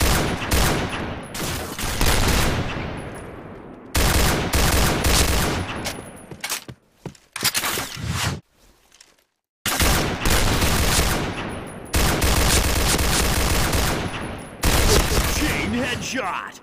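An SG550 rifle fires in the Point Blank shooter game as loud, rapid automatic bursts with short pauses between volleys, while a game announcer's voice calls out over the shooting.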